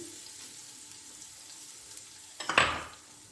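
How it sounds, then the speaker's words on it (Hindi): Garlic dropped into hot oil for chicken matar pulao catches with a sudden sharp sizzle near the end, after a quiet stretch of faint kitchen background. "थोड़ा सा इसको मैंने भूनना है।"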